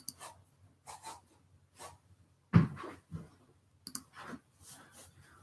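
Computer keyboard typing, heard as sparse, faint clicks and short bursts of keystrokes with quiet gaps between them and one louder cluster in the middle.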